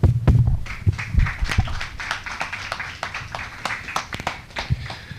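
An audience claps for Professor Smith at a leadership series event, a burst of loud applause at the start that settles into scattered, uneven hand claps and fades over several seconds.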